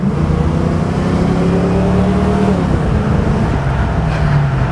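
A 1988 Ford Mustang GT Convertible's V8 hums steadily from inside the cabin while cruising, its low drone easing down in pitch as the speed settles, with road noise underneath.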